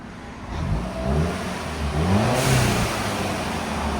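A 2012 Audi TTS with its 2.0L turbo engine and stock exhaust revs up a few times, a moderately loud, fairly muted rise and fall in pitch over a few seconds.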